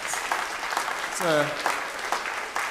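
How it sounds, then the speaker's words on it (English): A conference audience at a Seventh-day Adventist quadrennial session applauding in a standing ovation, a brief dense wash of clapping with a voice speaking over it. "Join me in a standing ovation and a round of applause for this great soldier of Christ"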